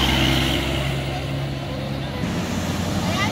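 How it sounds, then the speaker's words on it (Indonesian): A Sumber Laris bus rolls past on a toll road, a loud steady low rumble and tire roar that dips slightly midway then swells again, with traffic wash and someone talking over it. "Ini juga ada bis Sumber Laris ya"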